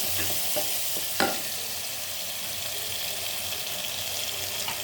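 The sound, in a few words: ginger garlic paste frying in a pan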